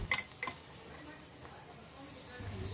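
A medium onion, finely chopped, sizzles softly as it is sautéed in a pan for mint chutney. A couple of sharp utensil clinks near the start are followed by a quiet, steady frying hiss.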